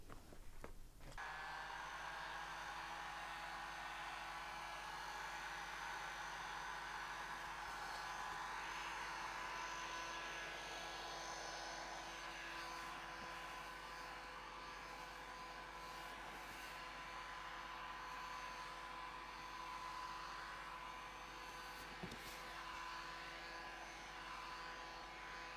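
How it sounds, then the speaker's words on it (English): Steady hot air blown across a handmade foam cowboy hat, a continuous loud whooshing hum from a heat gun or dryer that runs unbroken for the whole stretch with no talking. "As a finishing touch, we will blow hot air all over this hat."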